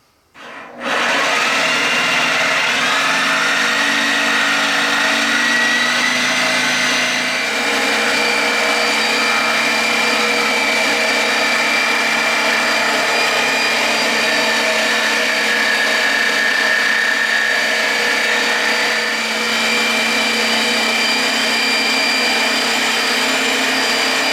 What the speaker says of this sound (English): I'm just going to use a jigsaw and cut out this profile